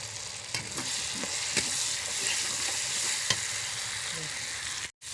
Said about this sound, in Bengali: মশলাটা সামান্য ভেজে নেব।